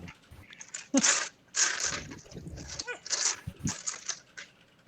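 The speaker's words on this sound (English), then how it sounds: "Haku, stop barking, please" A dog barks repeatedly in sharp bursts indoors, several loud barks spread across the moment with a voice faintly mixed in.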